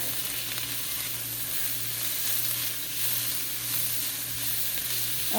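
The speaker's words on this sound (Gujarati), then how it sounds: "ઓનિયન બ્રાઉન જેવી થઈ જાય એટલે એમાં નાખીએ કેપ્સિકમ. કરી દઈએ મિક્સ." Capsicum frying in a pan with browned onions for street-style veg Hakka noodles, a loud, continuous close sizzle with light stirring scrapes, no voices.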